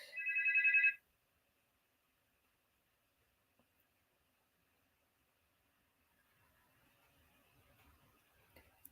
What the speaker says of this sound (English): I don't know if the phone is going.